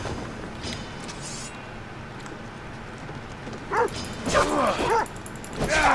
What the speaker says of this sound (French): Maudit chien.